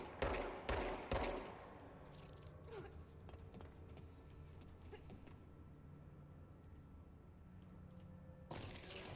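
In the video game Control, a few sharp, loud bursts of gunfire crack out at the very start, followed by quieter mechanical rattles and creaks. Another burst of shots comes near the end, with no speech in between.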